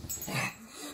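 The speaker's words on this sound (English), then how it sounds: "Why are you barking?" A pet dog at home gives one short bark-like yelp that trails into a whine, close and fairly loud, with no talk over it.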